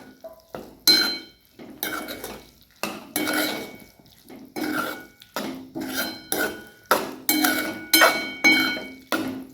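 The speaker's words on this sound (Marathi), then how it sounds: "आता आपण याच्यामध्ये भेंडी टाकून घेऊया फ्राय केलेले। छान मिक्स करून घ्यायचं आहे।" Spoon scraping and clinking against a pan while fried okra is stirred into spiced yogurt masala, in a steady series of distinct, close strokes.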